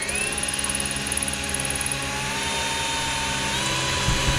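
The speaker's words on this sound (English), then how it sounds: "Now I need to drill the tab." Power drill boring a hole through a rear fender tab on a 1955 Triumph TR2 during restoration, a steady close whine running continuously with a slight rise toward the end, no talking.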